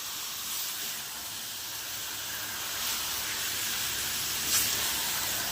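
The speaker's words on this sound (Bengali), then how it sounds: "মাংস দিয়ে সম্পূর্ণ মশলাটাকে আমি ভালো মতো 10 মিনিট কষিয়ে নেব।" Marinated chicken fries in spice paste in a pan for a chicken curry, giving a steady, soft sizzling hiss throughout with a brief louder spit near the end.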